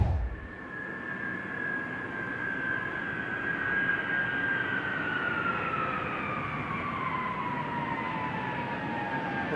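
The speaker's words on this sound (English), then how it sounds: "We're bringing this airplane here. It's its last flight." A retired Air Force cargo airplane on its final flight to the Boneyard gives a steady, loud engine drone with a slowly falling whine, continuous throughout with no talk.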